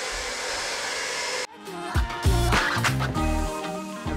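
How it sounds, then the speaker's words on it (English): A hair dryer roars steadily for a moment while drying paint on DIY artwork, then cuts off, followed by clattering, tapping and handling noises close by. "I whipped out the good old hair dryer to save some time."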